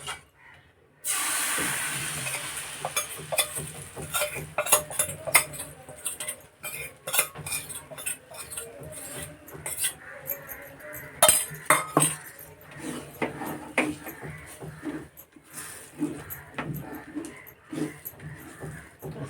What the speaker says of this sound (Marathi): ढवळून आपल्याला हे करून घ्यायचं चांगलं घट्ट